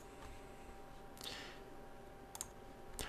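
Computer mouse clicks, a few small sharp taps up close, quiet and isolated against a faint steady background hum.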